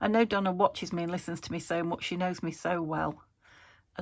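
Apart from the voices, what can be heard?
No everyday noises stand out.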